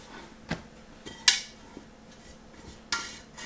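A loaf of baked no-knead bread is taken out of a pot with a few sharp metallic clinks and knocks, one louder than the rest, over a quiet background.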